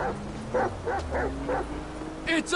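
A dog in the video game GTA 5 barks and yips repeatedly in a quick irregular series of short sharp barks, fairly close, with faint game background sound.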